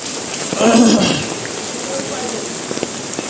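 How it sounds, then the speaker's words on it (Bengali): Heavy rain pours down on a street in Dhaka, a loud, continuous hiss of drops hitting surfaces close by, with a brief muffled voice near the start. "বৃষ্টি, প্রচুর বৃষ্টি ঢাকাতে দেখতে পাচ্ছেন।"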